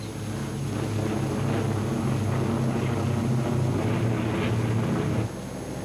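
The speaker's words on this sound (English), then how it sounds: "The bombers continue on." A WW2 bomber formation flying on, a steady droning engine roar that holds constant at full strength throughout, alone with no voices.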